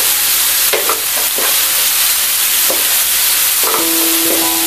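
Sambal sauce for nasi goreng fries in a pan with a loud, dense, continuous sizzle, punctuated by several spatula stirs and scrapes, close by with no talking.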